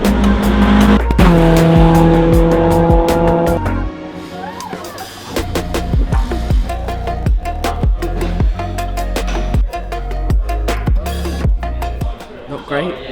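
A Ginetta Junior race car at Snetterton winter testing drives and spins, its engine droning then dropping while tires squeal and skid in sharp bursts, close and loud.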